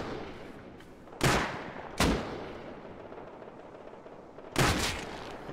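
Three sharp gunshots from Rust ring out at uneven intervals, loud and close, each with a short decaying tail over a quiet background.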